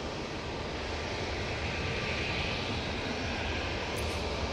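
A Juneyao Airlines jet in Peony livery at Manchester Airport, heard as a steady, fairly faint broadband engine roar that holds even throughout with no voices.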